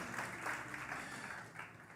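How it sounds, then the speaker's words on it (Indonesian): Church congregation clapping at a worship service in Batam, a steady, moderately faint wash of applause lasting throughout with no clear voices over it. "Beri tepuk tangan dulu buat Tuhan Yesus"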